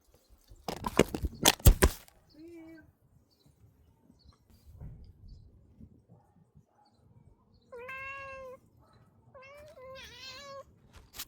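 A hungry cat meows several times in close, drawn-out calls near the end, after a burst of loud sharp cracks and clatter at the start.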